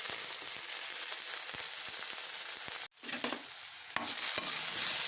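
Onion, garlic and ginger fry in a pan for a Chinese samosa filling: a close, steady sizzle with stirring scrapes, which drops out briefly as the ingredients go in and then returns louder and brighter.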